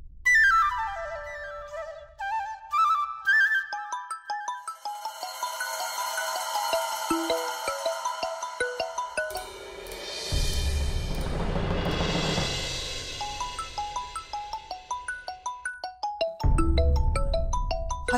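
A melodic electronic ringtone plays repeating note patterns, bright and close, with a louder swell partway through and no one speaking.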